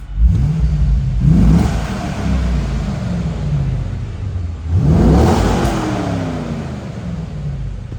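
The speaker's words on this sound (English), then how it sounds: "Let's give it a rev." A 2004 Chevrolet Corvette V8 revs twice from idle, each blip rising sharply then settling back to a steady, loud rumble; the engine sound fills the whole span with no talking.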